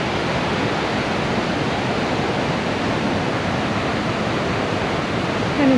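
Lower Falls waterfall at Lake Clark, Alaska, a loud, unbroken roar of rushing water that fills the whole scene evenly and steadily from start to finish.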